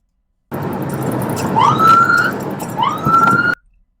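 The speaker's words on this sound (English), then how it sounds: "Siren" A Dallas police car siren wails in two rising sweeps over a loud, rumbling engine and road noise during a car chase, close and strong.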